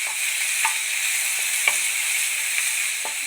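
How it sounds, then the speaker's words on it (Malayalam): Two tomatoes drop into a pan of frying ginger and garlic, setting off a steady bright sizzle with a few light stirring scrapes and clicks over a few seconds. "ഇഞ്ചി വെളുത്തുള്ളി വഴണ്ടി വന്നിട്ടുണ്ട്, അതിലേക്ക് നമ്മൾ എടുത്ത് വെച്ച് തക്കാളി ചേർത്ത് കൊടുക്കാം"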